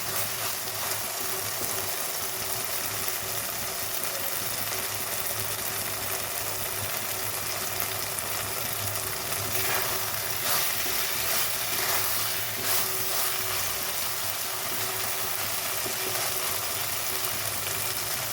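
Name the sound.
taro stems (kochur loti) frying in a pan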